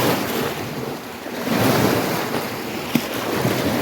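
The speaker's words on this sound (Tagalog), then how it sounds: "ang lakas-lakas ng alon ng ilog" Strong waves on a river in New Zealand churn beside the bank, with gusting wind buffeting the microphone into a steady roaring wash and one brief knock partway through.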